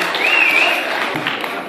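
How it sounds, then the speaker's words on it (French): An audience at a Miss Montmagny pageant with Kabyle dresses applauds a contestant, a brief even wash of clapping with a sharp whistle rising briefly over it near the start. "Applaudissez quelqu'un de Silina."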